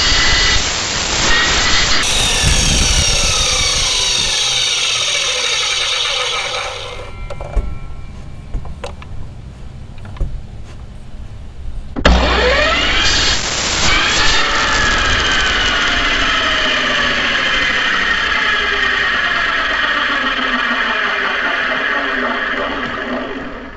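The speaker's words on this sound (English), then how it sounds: "Now we got our braces cut them at 23 inches on a 45-degree angle with a miter saw." A miter saw cuts wooden braces at a 45-degree angle while an above-ground dog kennel is being built. Two long, loud cuts run close by, each a sustained motor whine over rough cutting noise, with a quieter gap between them.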